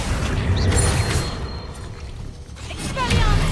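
Accio summoning spell cast in the Hogwarts Legacy video game, heard as a loud booming, mechanical-sounding magic effect with several swelling thumps and bright whooshes, layered over continuous game ambience.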